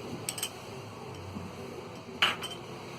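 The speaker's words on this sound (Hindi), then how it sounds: "एक हमने कढ़ाई ली है और इसमें हम छोटे चम्मच से 2 चम्मच घी डालेंगे" A small spoon clinks against a kadhai while ghee goes in: two or three light metallic taps near the start and a sharper clink about two-thirds through, over quiet kitchen room tone.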